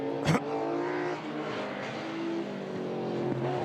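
BMW race series cars, including a big V8, charge through a reverse-grid field at Taupo, several engines revving and accelerating together in a loud, continuous roar, with a sharp close burst early on.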